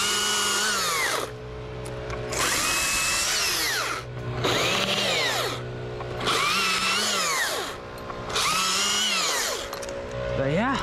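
A chainsaw cuts down a tree during climbing and removal work, its engine rising and falling in repeated surges of roughly two seconds as it bites into the wood, loud and close, with some voices mixed underneath.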